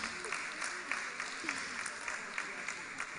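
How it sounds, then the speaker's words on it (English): Steady clapping from a crowd, a continuous patter of many hands with a voice faintly beneath it. "a huge round of applause to you"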